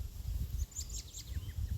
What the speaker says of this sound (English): Now the birds are having a go at him.